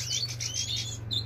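A male goldfinch chirps in a rapid run of bright, high twittering notes, close by, over a steady low hum, ending after a short pause with one more brief call.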